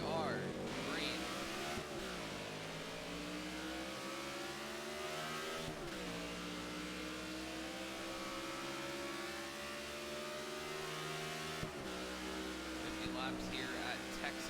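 Stock cars race at Texas in the video game NASCAR '15 during the AAA Texas 500, their loud engines droning and rising in repeated sweeping revs as the pack pulls away at the green flag.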